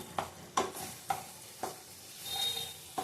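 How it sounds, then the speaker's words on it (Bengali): Flat bean paturi mixture with yogurt gets stirred in a frying pan: regular spoon scrapes about every half second over a soft, steady sizzle, with no speech. "হালকা হাতে নেড়ে চেড়ে নিতে হবে"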